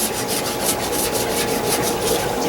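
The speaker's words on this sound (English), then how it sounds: "The Cyano comes off pretty good with a credit card." A credit card scrapes cyanobacteria off aquarium glass in close, rhythmic rubbing strokes, a dense scratchy swish repeating several times a second.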